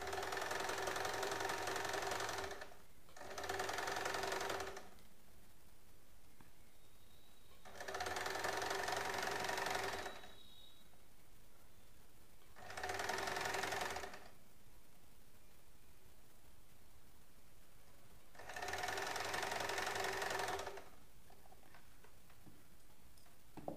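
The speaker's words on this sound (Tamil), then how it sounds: "இதை அப்படியே இப்படி மடக்கிட்டு இந்த பக்கமாக தைக்க வேண்டியதுதான்" An electric sewing machine stitches fabric for a child's frock in five separate runs of steady whirring, each lasting a couple of seconds with quiet pauses between, close and moderately loud.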